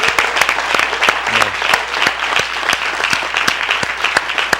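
An audience claps for the servers at a live gathering, with steady, dense hand applause filling the room throughout and no pause.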